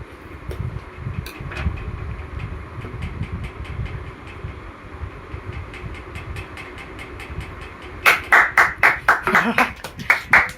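Several people clap in quick bursts while a new Redmi 15 5G phone is unboxed among friends, faint at first and then a loud, rhythmic run of claps near the end, with talk and background hum throughout.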